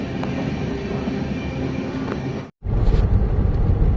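Steady rumble of a night train in motion, broad low-frequency roar running continuously, briefly cutting out for a moment before returning louder and rougher, as if passing through a gap or between carriages.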